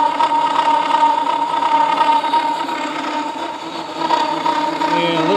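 Horizontal milling machine cutting a cast iron straight edge, a loud, continuous machine drone with a dense mix of harmonic whine and grinding, steady throughout and close.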